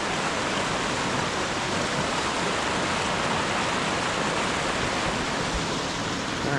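Mountain stream in the Smoky Mountains flowing close by, a dense, even rush of water that holds at a constant loud level throughout, with no voices.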